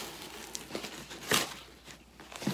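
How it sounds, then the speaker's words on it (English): A package is opened with scissors, close-up crinkling and rustling of packaging with a few sharp snips and tearing bursts, fairly faint and irregular. "I use scissors to open up the package."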